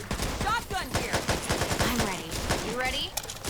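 Rapid gunfire bursts from the Back 4 Blood video game crackle in quick volleys, with voices talking over the shooting.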